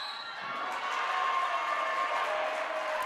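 Mixed crowd at a women's college basketball game between Lawrence Tech and Michigan-Dearborn reacting to a foul call, a steady wash of cheering and shouting from both sides of the gym that swells slightly and holds for a few seconds.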